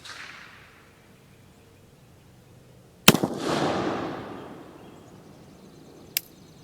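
A single sharp gunshot from an Uberti 1847 Walker black-powder revolver cracks out, followed by a rolling, fading boom, with a quieter sharp click or snap a few seconds later.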